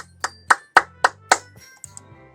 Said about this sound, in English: I receive applause anyways.